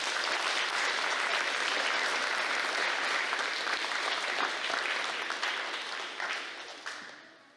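A ceremony audience applauds an award winner at an invention convention, with sustained, dense clapping from a crowd that holds steady and then gradually thins and fades toward the end.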